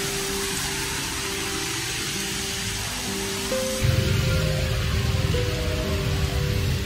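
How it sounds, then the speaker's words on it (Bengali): Heavy rain pours outside in Bangkok, a steady, dense hiss that swells louder about halfway through, with a low hum running underneath and no voices. "ব্যাপক বৃষ্টি হচ্ছে বাইরে।"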